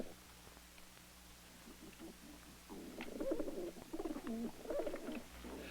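Pigeons in a laboratory room coo in soft, low, rounded bursts, quiet at first and then fuller and more frequent, over a faint steady hum.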